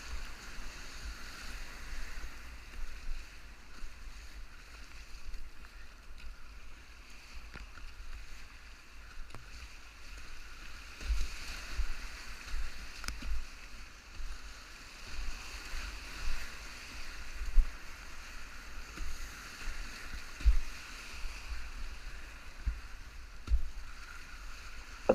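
Whitewater on the Youghiogheny River heard from a paddled boat, with steady hissing rushing water and low wind buffeting in the foreground, no voices.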